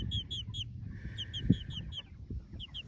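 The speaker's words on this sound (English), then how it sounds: "we think that Pee-wee is a different breed of chicken, because you see he's remarkably smaller" A small chicken of an unusual breed clucks softly and irregularly, with high bird chirps repeating over a low rumbling background. The sounds are fairly faint.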